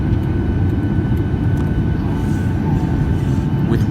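Ryanair Boeing 737-800 landing on the runway, a steady loud broadband roar of engine and airflow filling the cabin throughout with a faint tonal whine above it.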